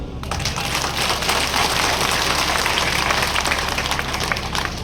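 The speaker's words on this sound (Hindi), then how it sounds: "तालियां थोड़ी कम लगी।" A crowd at an outdoor political rally breaks into dense, steady applause, many hands clapping together loudly for several seconds without letting up.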